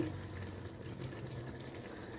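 Water pours steadily into a cooking pot for chicken nihari, a continuous soft splashing and gurgle that stays even throughout.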